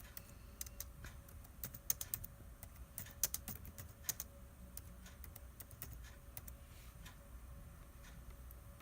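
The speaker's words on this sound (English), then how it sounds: "And then in here, you would type your message." Soft, quick keystrokes on a computer keyboard as a message is typed, irregular clicks with a few louder taps, heard close over a faint room hum.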